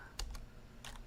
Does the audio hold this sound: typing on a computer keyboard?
yes